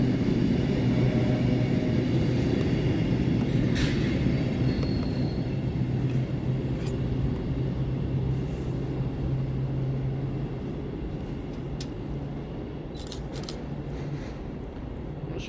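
A Pendolino train rolls through Stafford station with a sustained low rumble and humming drone that slowly fades, scattered with brief clicks and rattles, and no speech.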